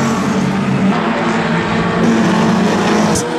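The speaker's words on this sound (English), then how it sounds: "and now Garlick's moving underneath" Junior sedan race cars roar around Carrick Speedway in an Australian title heat. The loud, continuous engine drone is close and unbroken, with no voices.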